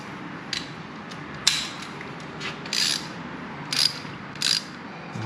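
A torque wrench ratchets on a bolt during an oil service on a Ducati Monster S2R motorcycle. It makes several short bursts of quick metallic clicking, separated by pauses, close by and fairly quiet.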